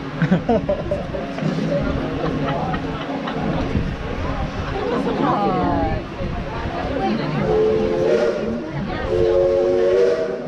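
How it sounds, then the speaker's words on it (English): The Dollywood Express steam locomotive, engine 70, sounds its whistle in repeated loud blasts with hissing steam, close by and mixed with chatter and talk from riders. "Those two whistles you just heard tell us that our engineer has received our all clear"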